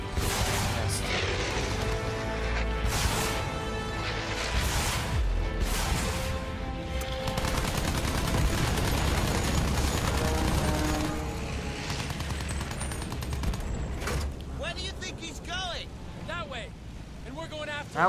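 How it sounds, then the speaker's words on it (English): Enemy aircraft firing in the video game Battlefield 1, bursts of machine-gun fire and crashes over a droning engine and dense battle noise, with a person talking over it. "Yep, they're shooting back."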